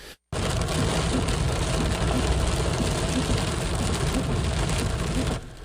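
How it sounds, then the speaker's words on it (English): Hail and rain pound a car on a highway during a deadly thunderstorm, a dense, steady clatter and hiss that fills the whole clip loudly and evenly from start to finish. "You could hear the hail bouncing off the car to go along with rain and lightning in this area."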